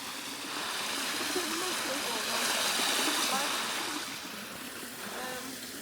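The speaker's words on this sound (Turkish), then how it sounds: "Oo foşur foşur su akıyor." Water gushes and rushes steadily along a village stream, a broad continuous close flow that swells slightly and then eases, with someone speaking over it.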